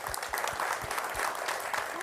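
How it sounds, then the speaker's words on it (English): Brief applause from a small audience after a corporate webinar session, a dense burst of close hand claps lasting about two seconds. "If we could give them a round of applause."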